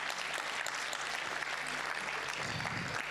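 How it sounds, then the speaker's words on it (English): An audience at an e-learning summit gives a round of applause, a faint but steady wash of clapping, with a low hum underneath and no speech. "Can you give yourselves a round of applause?"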